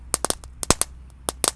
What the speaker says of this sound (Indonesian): Ini ada mercon air mancur pretek, langsung kita nyalakan.